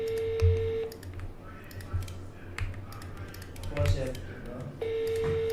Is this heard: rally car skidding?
no